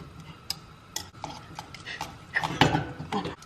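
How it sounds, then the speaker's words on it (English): Spoon stirring melting beeswax in a pot on a stovetop for homemade candles, with light scraping clinks against the metal, intermittent at first and then busier and louder near the end. "now I'm gonna slowly increase the heat and start stirring it around"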